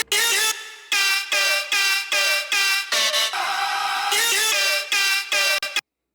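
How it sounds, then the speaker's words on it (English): Chopped, pitched vocal fragments in a rock-dubstep track stutter in a rapid rhythmic pattern, bright and loud, like a horn-like synth stab repeating in short bursts before cutting off. "we kind of do a fun little chop with the vocal here."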